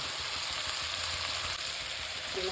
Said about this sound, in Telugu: ఇప్పుడు అవి ఫ్రై అయినాయి కదా, మునక్కాయ ముక్కలు వేసుకుందాం.